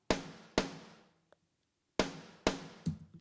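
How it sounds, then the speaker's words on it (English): Triggered popcorn snare drum sample heard through the room mic only: five sharp, loud cracks with bright, reverberant decays, irregularly spaced, plus a faint tick between them, with no talking. "So that gives me a triggered snare that sounds"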